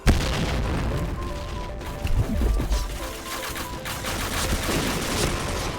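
Booming blasts and rattling gunfire in a video game, with a loud explosion near the start and continuous rumbling chaos throughout.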